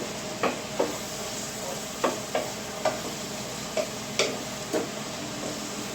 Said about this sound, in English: Waiting on our veggies to cook down here.